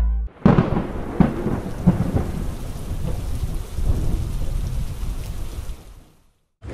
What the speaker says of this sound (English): Why are you out here in the rain?